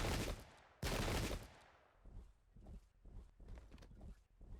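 Musket volleys from a Pike and Shot battle game at Adwalton Moor, 1643: two loud, broad crackling volley bursts up front, then softer scattered shots and rumbling battle noise trailing off.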